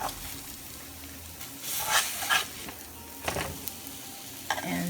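Akankyie dough fries in a pan of oil, giving a steady soft sizzle with a few louder bursts of crackle and stirring, close by, with no voices.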